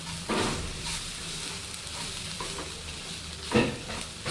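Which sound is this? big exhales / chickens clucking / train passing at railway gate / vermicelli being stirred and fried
vermicelli being stirred and fried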